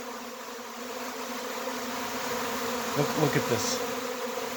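A honeybee swarm moving in, its continuous low droning buzz steady and full throughout, with a few individual bees passing closer near the end and a man's brief remark.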